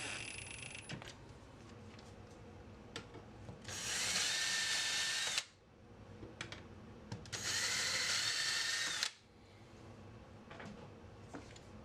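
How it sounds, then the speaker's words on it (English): A power drill with a Vix bit pre-drills screw holes in a cabinet for a drawer runner: two loud, close, steady bursts of about two seconds each, with light handling noise before, between and after. "Now use your Vicks bit to pre-drill your holes"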